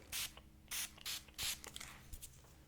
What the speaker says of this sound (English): Okay, just a quick spray.